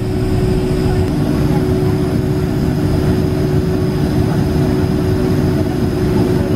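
Jet airliner engines at London Heathrow rumble in a steady, loud low drone with a constant hum, heard from inside a taxiing long-haul aircraft as people talk over it.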